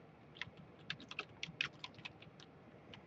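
A computer keyboard typed on for a short burst of quick, light, irregular keystrokes, close and alone with no talk.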